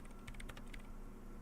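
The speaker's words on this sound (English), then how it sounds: "Her hands typing hundreds of commands in the machine." Fast typing on a machine keyboard in the video game Disco Elysium, a quick flurry of soft key clicks over a low steady hum, faint and close.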